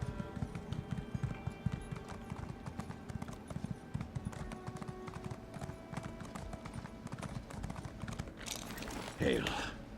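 Steady rhythmic horse hoofbeats clip-clopping along at a walking pace in the video game Elder Scrolls Online, with a brief burst of other game noise near the end.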